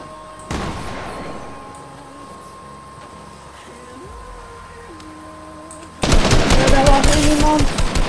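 Gunfire in the Fortnite Battle Royale video game: a single sharp shot early on, a stretch of quieter in-game ambience with a steady tone, then a loud, rapid, sustained burst of automatic fire to the end.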